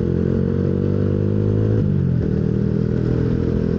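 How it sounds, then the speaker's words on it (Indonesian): A bored-up 155 Yamaha Jupiter MX motorcycle on a dyno, running a PE26 carburetor that makes it cough and run poorly, holds a steady, loud engine drone whose pitch drops partway through, with no talking. "Motornya tuh batuk-batuk banget, nggak bisa lari enak lah."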